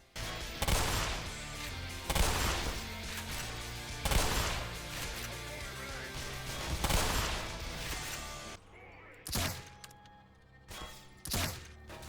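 Gunfire during a Half-Life Black Mesa fight, with the player sheltering behind boxes: loud broadband shot bursts recur about every two seconds, then shorter, sharper cracks follow near the end.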